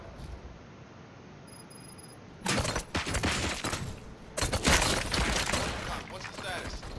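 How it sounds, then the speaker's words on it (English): Gunfire in the video game Robocop Rogue City: bursts of loud, harsh shots in two main volleys cut through quiet game ambience, with voices talking around the shooting. "Gunshots? What's going on?"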